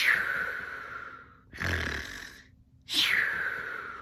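A voice imitates snoring: two exaggerated, nasal snores with a breathy snort between them, close and fairly quiet.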